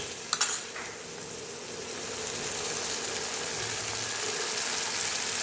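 Onions fry in a pan for a potato and pea vegetable dish, a bright continuous sizzle that swells and holds steady after a few utensil clinks at the start.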